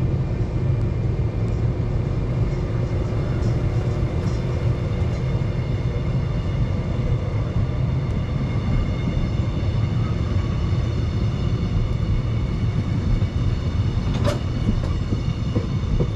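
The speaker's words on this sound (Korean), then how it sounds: "열차는 기적을 울리고 덜커덩 다시 달리기 시작합니다." A train at Hwanggan station, beside a vineyard, rumbles steadily as it pulls away, with continuous loud rolling noise and faint clatter, and no one speaking.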